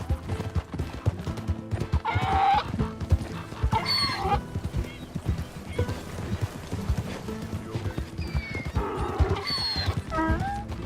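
Donkey and horse sounds from Red Dead Redemption 2: steady clip-clop of hooves with several loud braying or whinnying calls rising over the trotting, close and prominent.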